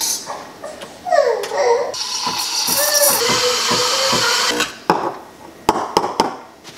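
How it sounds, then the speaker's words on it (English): A Breville Barista Pro coffee machine steams milk with a loud, hissing, gurgling roar for a few seconds, then clicks and knocks as it stops, with a voice faintly in the background. "Now we're gonna steam our milk before we do the coffee."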